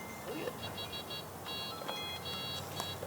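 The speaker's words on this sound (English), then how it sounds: "Is that an alarm? Yeah," A carp fishing bite alarm emits rapid runs of high electronic beeps in short bursts over steady outdoor background noise.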